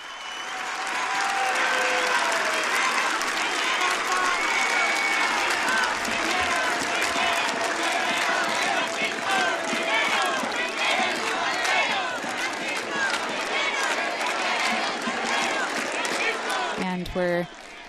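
A crowd of 25,000 World Youth Day volunteers in Lisbon applauds and cheers, dense clapping and shouts sustained loudly throughout, with a commentator's voice speaking over it.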